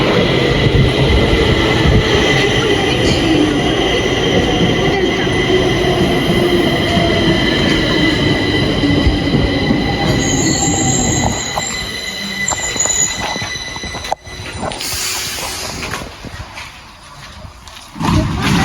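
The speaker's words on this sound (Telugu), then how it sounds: "ఇప్పుడు ట్రైన్ వస్తుంది ఈ ట్రైన్ చాలా లాంగ్ ఉంటుంది" A long train in Sweden rumbles past loudly and steadily, then slows with a squeal of wheels and a screech of brakes as it draws to a halt at a station.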